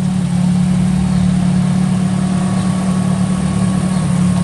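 A Caterpillar V35D compact forklift with pneumatic tires and 3,500 lb capacity runs its engine at a steady idle, a close, constant low rumble with a hum that holds unchanged throughout.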